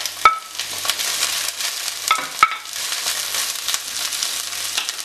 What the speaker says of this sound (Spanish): Ya tenemos el aceite caliente. Lo que vamos a hacer, añadimos una cebolleta